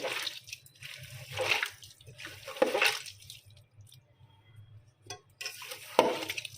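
Goat tripe being washed by hand in water, with squishing, splashing and occasional clinks against a vessel in irregular bursts, close by and moderately loud, no talking.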